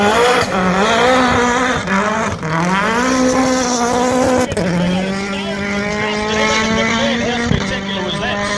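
Hyundai hill climb rally car at the Ben Nevis Station Golden 1200 climbing a dusty hill, its engine screaming loud and close, rising through gears with short lifts between shifts, sustained at high revs throughout.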